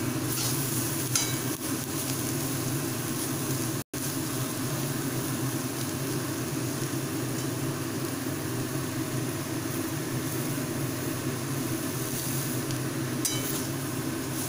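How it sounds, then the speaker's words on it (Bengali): Vegetable peels frying in an open pan on a gas stove, a steady broad sizzle holding evenly throughout at close range, with one brief dropout partway through. "এবারে ঢাকনাটাকে খুলে ভালোভাবে ছড়িয়ে ছড়িয়ে ভালোভাবে ফ্রাই করে নিতে হবে।"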